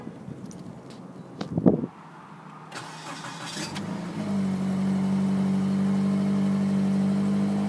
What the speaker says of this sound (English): Fire's right up. Yeah, you can hear that sound from the exhaust pipe.